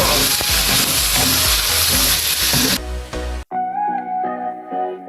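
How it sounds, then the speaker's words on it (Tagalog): Meat sautéing in a pan for Bicol Express, a loud, dense sizzle with stirring, which cuts off near the end as music takes over. "Igigisa natin itong karne at least mga 5 minutes para manot yung aromatic sa karne."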